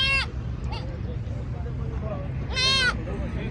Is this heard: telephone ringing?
no